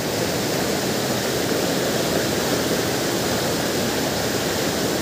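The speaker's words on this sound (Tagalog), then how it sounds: "Pinapalid ng isang malakas na tubig na nanggagaling dito." Strong rushing water from a powerful waterfall or flow pours in a loud, steady, broadband roar with no breaks, unaccompanied by voices.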